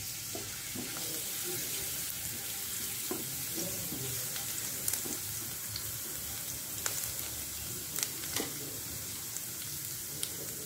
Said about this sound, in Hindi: गर्म हो गया, जो गार्लिक बारीक चॉप करके रखा था वो पहले एक मिनट अच्छी तरह से सॉल्टी कर लूँगी।